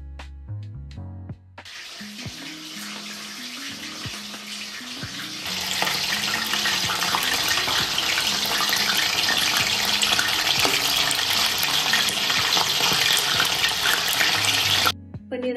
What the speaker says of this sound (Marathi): पनीर आपलं आता तळून झालेलं आहे